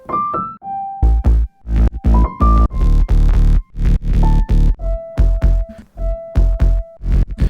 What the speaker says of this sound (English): So this piano, some simple EQ, but the main thing is the distortion.